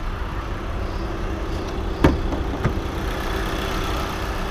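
A 2017 SEAT Ateca's 1.4 TSI engine, 150 horsepower and paired with a manual gearbox, idles with a low, even hum, broken by a couple of brief clicks around the middle.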